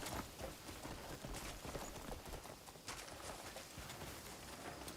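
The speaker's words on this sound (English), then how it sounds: "Might as well race around on my horse a little bit." Horse hooves pounding steadily in Crimson Desert, a fast continuous clip-clop of galloping over a dense ambient game soundscape, with no talking.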